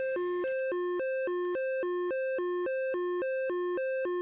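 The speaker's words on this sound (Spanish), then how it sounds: "Ese es el sonido de blocaje en radar." Radar lock warning tone from the early F-14's AN/ALR-45/50 radar warning receiver in the DCS flight simulator: a steady, rapid two-pitch electronic warble alternating evenly, clear and unbroken.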